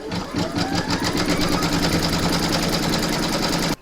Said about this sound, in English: load your file into your machine, and then you're going to stitch round number 1, which is going to give you your placement outline for your batting.